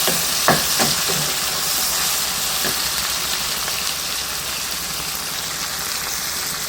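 Tomatoes and brinjal sautéing in a pan for kathirikai tokku, producing a dense, steady frying hiss close up with a few soft stirring knocks near the start, free of voices.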